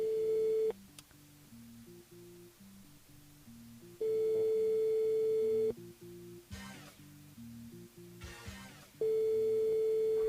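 A telephone line tone plays during a radio call to a listener. Loud steady beeps alternate with stretches of lower, tone-like background, and the pattern repeats several times with no talk.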